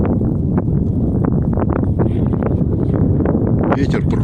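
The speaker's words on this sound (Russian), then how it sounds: "Ветер просто ужас." Strong gusting wind on an open frozen lake during ice fishing in snow, buffeting the microphone with a constant low roar and rumble while someone speaks over it.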